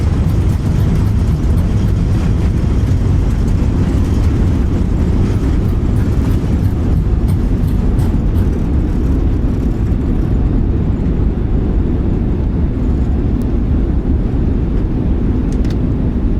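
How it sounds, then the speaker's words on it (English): Airliner thrust reversers roar on landing in Microsoft Flight Simulator, a loud, dense, continuous rumble that holds steady and then eases slightly toward the end, with no voices. "Okay, reversers are coming on."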